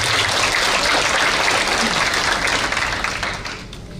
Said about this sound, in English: Please give a round of applause for UIPSUR.